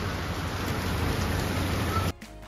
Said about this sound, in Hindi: देखिए कितनी बारिश हो रही है, खतरनाक वाली